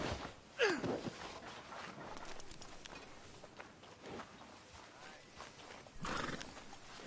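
Hooves clop along on a hard surface in a video game while a horse lets out a short whinny near the start, with soft voices underneath.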